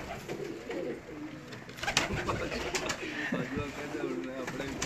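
Pigeons coo repeatedly at a breeder's loft in Jhelum, soft throaty calls rising and falling at close range over a busy background, with voices talking nearby.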